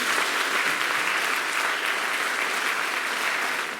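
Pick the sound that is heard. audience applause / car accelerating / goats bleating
audience applause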